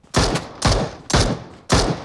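Four short bursts of automatic gunfire in the shooter game PUBG Mobile, each a loud, sharp rattle of rapid shots, evenly spaced and close, with no talk.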